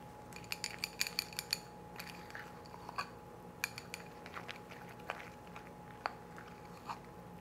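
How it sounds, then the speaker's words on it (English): A full bowl of guacamole mixture with beans and olives is stirred by hand, giving scattered soft clicks and scrapes of a utensil against the bowl at close range, with short bursts of quick taps. "we can give this a good stir"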